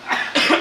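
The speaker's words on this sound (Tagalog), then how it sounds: "ubo," A couple of short, close coughs from a single person, the second burst louder and fuller than the first.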